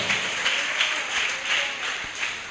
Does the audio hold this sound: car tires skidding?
no